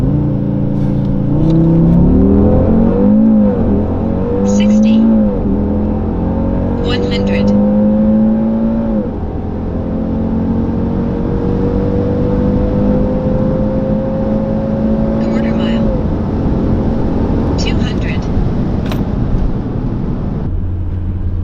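An Audi RS3 8V with OPF, Stage 1 tune, accelerates hard from 0 to 200 km/h, its engine climbing through the gears with clear shift dips, loud and close from inside the cabin, steady and without talk.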